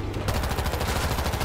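Dense, rapid gunfire in the zombie shooter World War Z, a continuous rattling burst of automatic weapons that fills the whole clip at steady loudness.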